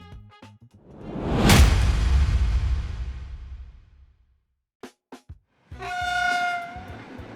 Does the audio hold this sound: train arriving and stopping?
yes